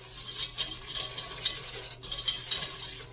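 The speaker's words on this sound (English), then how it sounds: "we're going to whisk this all together" Whisk stirring a goopy oil mixture for homemade enchilada sauce in a frying pan, a steady scraping, clinking rhythm of metal against the pan with faint sizzling underneath, close by and with no talking.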